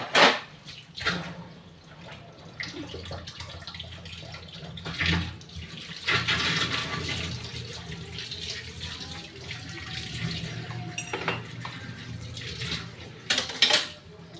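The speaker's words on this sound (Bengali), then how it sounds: "সাবান দিয়া ধোয়া নিতাছি, ধুয়ে নিতাছি।" Running tap water over an old plate being washed with soap, a steady splash with scrubbing and clinks of dishware in the sink, some louder bursts of water at the start and end.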